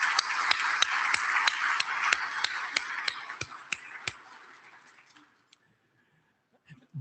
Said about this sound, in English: let's please give them a round of applause for making this meeting happen for us